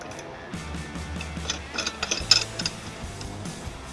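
A nut being threaded and tightened onto a bolt with a conical toothed washer while fitting a removable receiver hitch on a 2021 Toyota Sienna, heard as close ratcheting clicks and metallic ticks in uneven bursts, with no speech.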